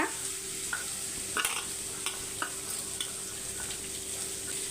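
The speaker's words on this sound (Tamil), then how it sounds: "அதுக்கப்புறம் கட் பண்ண பீட்ரூட்டை சேர்த்துக்கோங்க" Cut beetroot stirred in a frying pan with curry leaves and garlic, a steady soft sizzle under scattered light spatula scrapes and clicks, close and fairly quiet, no talking.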